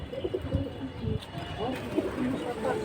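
Pigeons at a busy pigeon market coo in low, soft, repeated bursts close by, under a murmur of people talking.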